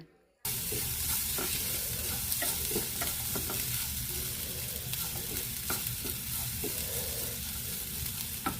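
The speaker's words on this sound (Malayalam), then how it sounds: "വറ്റൽമുളകൊക്കെ റെഡിയാക്കിയിട്ടുണ്ടല്ലോ അതൊന്ന് വറുത്തെടുക്കാം" Steady sizzling and crackling of dry red chillies roasting in a hot pan on low heat, with occasional scraping stir strokes throughout.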